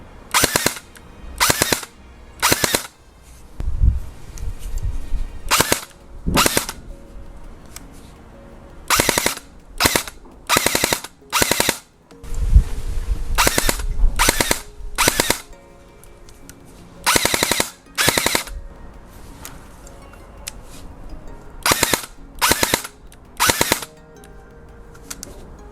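An EMG Noveske Shorty Gen4 airsoft electric gun fires repeated 3-round bursts, each a quick loud mechanical rattle, with brief pauses between bursts and a few clustered strings over about 25 seconds, no talking.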